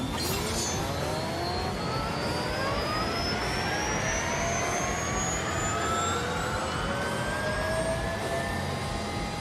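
A Rimac electric hypercar launching hard in thrust mode in the Grand Tour video game, a loud continuous rising whine that sweeps upward in pitch over several seconds with wind-like roar beneath, no talking.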